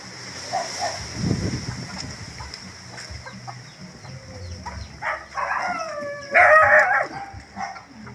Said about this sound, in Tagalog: Ang daming aso dito. Ito, galit na galit Galit na galit yung aso.